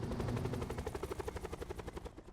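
A helicopter climbing in a video game, its rotor beating in a fast, steady pulsing chop over a low engine drone, fairly quiet and alone, fading slightly toward the end.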